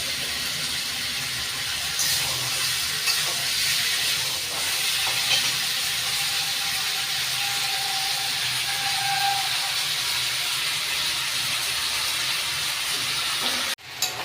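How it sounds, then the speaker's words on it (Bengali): Mutton being sautéed for kosha in a pan gives a steady, close sizzling hiss that runs throughout, with faint clinks and scrapes, then cuts off sharply near the end. "এবার এটাকে কষাতে হবে, ভালো করে কষাতে হবে।"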